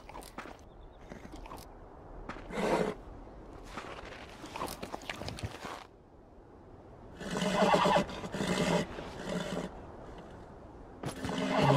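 A horse in the video game Beyond Two Souls gives a couple of brief whinnies and snorts amid soft hoof steps and rustling. The sounds are close and moderately loud, with no talk over them.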